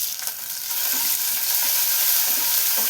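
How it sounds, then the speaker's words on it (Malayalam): Green chilies, dried red chilies and curry leaves sautéed in a pan for puli inji give a steady, close sizzle with light stirring scrapes, no voices. "ഇതെല്ലാം കൂടെ നന്നായി തന്നെ ഒന്ന് വഴറ്റിയെടുക്കണം."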